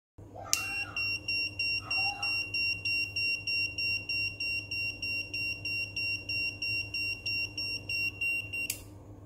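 An IC tester gives loud, close, high-pitched electronic beeps, steadily on and off, about twenty short pulses over eight seconds, with a couple of faint clicks near the start.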